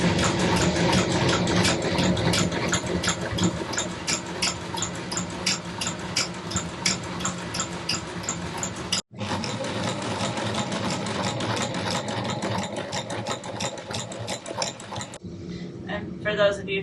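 A sewing machine on a sailboat stitches a shade in long runs of rapid, even needle chatter, loud and close, broken by a brief pause midway before running on, then a short quieter stretch at the end.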